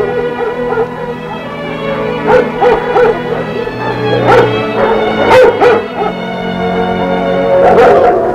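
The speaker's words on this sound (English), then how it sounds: "These German Shepherds are in various stages of training as scout dogs." German Shepherds in scout dog training bark in scattered, loud, close yips and woofs with some whimpering, several dogs sounding over a steady background hum.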